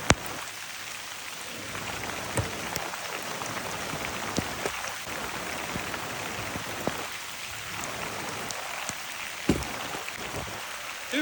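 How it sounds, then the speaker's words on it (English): Heavy rain pours down steadily, a dense close wash of drops pattering on surfaces with occasional sharper splashes, and no voices. "This is a lot of rain."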